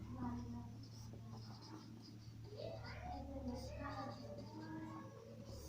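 Faint scratching of writing during a Class 10 maths lesson on triangles, with soft irregular strokes over a steady low hum, and quiet murmuring voices in the background.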